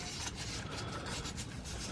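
Fine 1500 grit sandpaper rubs back and forth on a brake guide pin, a soft, steady, close scratching with quick repeated strokes and no talking.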